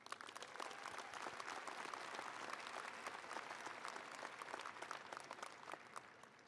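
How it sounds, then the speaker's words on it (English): Audience applause at an Iowa State University graduate commencement ceremony, steady and fairly faint, with dense clapping that lasts the whole stretch and no talk over it. "I think that deserves an Iowa State applause."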